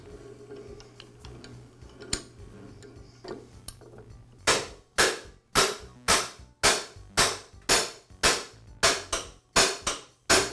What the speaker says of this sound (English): use my rubber mallet to tap the blade shaft out of the housing